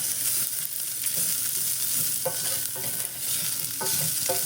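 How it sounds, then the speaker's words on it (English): Rice browning with tomato ketchup as it caramelizes in a pan, a steady close sizzle and fry with occasional stirring scrapes, no voices over it. "what I'm doing right now is I'm actually browning the rice. I'm cooking the rice"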